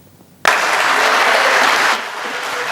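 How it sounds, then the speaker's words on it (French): Loud, sustained applause from a crowd honouring a senior Cameroonian gendarmerie officer at a military school ceremony, bursting in abruptly after a quiet moment and then easing slightly toward the end. "Des acclamations nourries pour reconnaître le mérite d'un officier supérieur camerounais"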